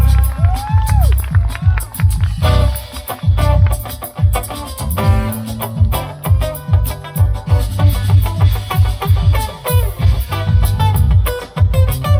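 A Thai audience claps and cheers at a live performance, the loud crowd noise rolling on throughout with music and voices mixed in.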